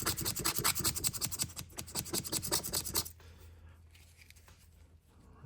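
A screwdriver scrapes and rubs at the pivot of an Imperial fish knife, giving close, dense scratching strokes for about three seconds before fading to quieter, intermittent scraping.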